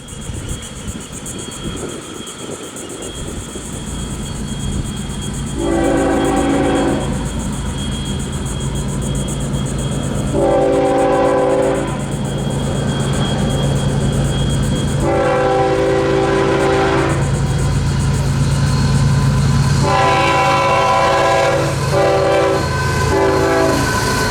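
A northbound Florida East Coast Railway freight train rolls past at Titusville with a heavy, continuous rumble, and its horn sounds several times in long loud blasts and shorter bursts.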